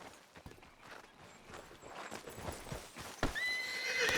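Horse hooves clip-clop in the video game Red Dead Redemption 2, with a horse whinnying at the end, over steady outdoor game ambience at moderate, close range.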